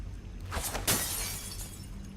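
A glass bottle thrown in Dishonored smashes with a sharp, bright crash, the shards scattering and ringing out for a second afterward over quiet room ambience.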